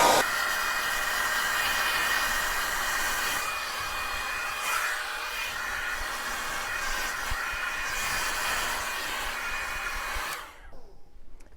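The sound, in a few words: hair dryer blow-drying hair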